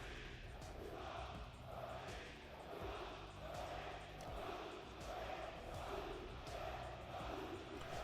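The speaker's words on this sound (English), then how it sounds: "It's the loudest the crowd has been throughout this weekend." An esports arena crowd roars in rolling waves, the swelling cheers and jeers rising and falling in a rhythmic pulse, heard faint and at a distance.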